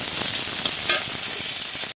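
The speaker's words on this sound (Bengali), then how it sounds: "এই পেঁয়াজ আর রসুনটাকে ভাজবো।" Onion and garlic fry in hot oil with a steady, bright sizzle and crackle, punctuated by a few soft stirring scrapes, close and continuous until it cuts off abruptly.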